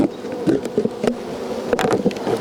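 Honey bees fly around a newly installed hive, a dense, close buzzing drone with wingbeats rising and falling as individual bees pass near, steady throughout with no voices.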